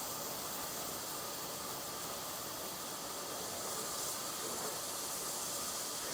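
Steam locomotive at the Bethlehem steam depot hissing steam in a continuous, steady broadband rush, fairly faint and unbroken, with no voices.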